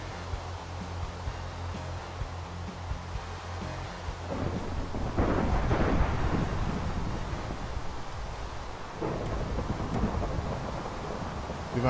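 Minecraft thunderstorm with steady rain and wind, a deep rolling thunder rumble swelling midway and a second roll near the end, loud and enveloping.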